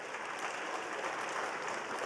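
A brief stretch of dense clapping from a crowd, steady and fairly distant, with no voices over it.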